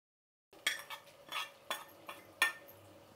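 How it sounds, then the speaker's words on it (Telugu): A spoon stirs fried tempering into thick ven pongal in a metal pot, giving a handful of separate scraping clinks at an uneven pace, close and fairly quiet with no talk. "ఇప్పుడు దీన్ని బాగా కలుపుకుందామండి"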